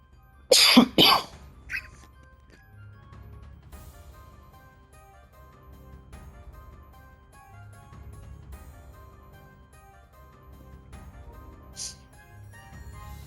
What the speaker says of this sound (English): I've got a coughing fit